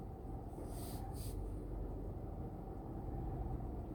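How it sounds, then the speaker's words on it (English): A car making odd noises, with a continuous low rumbling drone and a brief hissing burst partway through. "my car is making all kinds of noise now"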